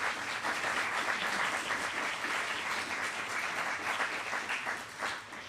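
Audience applause at the Dole Leadership Prize ceremony, a full, even wash of clapping from a large crowd sustained throughout and fading slightly at the end.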